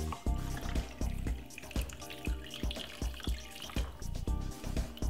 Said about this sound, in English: Then pour some ginger beer.